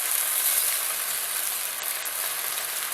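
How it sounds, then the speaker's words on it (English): Wine and chicken simmering together in a pan give a steady, dense sizzle and bubbling hiss that stays even and fairly loud throughout, with no voices over it. "as the wine is boiling in with the chicken"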